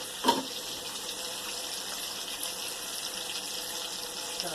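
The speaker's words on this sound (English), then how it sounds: "Pour your favorite sauce in" A steady, close wash of liquid hiss as sauce pours into a hot pan with salmon, continuous for a few seconds with no voices.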